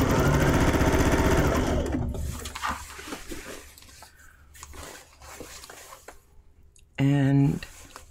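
A sewing machine stitches a seam on a bargello quilt cylinder with pinked fabric edges, running loud and steady up close, then stopping and giving way to quieter handling noise before a short final burst of stitching.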